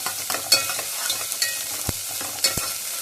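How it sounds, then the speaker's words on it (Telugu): Ginger garlic paste going into a hot pan, a loud close sizzle with scraping spoon strokes and a few sharp knocks against the pan, no talking. "అల్లం వెల్లుల్లి పేస్ట్ 1/2 టేబుల్ స్పూన్ అంత అల్లం వెల్లుల్లి పేస్ట్ వేస్తున్నాను."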